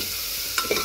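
Onion and garlic frying in butter and oil in a pan, a constant soft sizzle broken by two quick stirring scrapes near the end.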